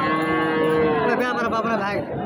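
A young heifer at a cattle market moos in one long, loud, drawn-out low call that wavers in pitch, close by, with no talking.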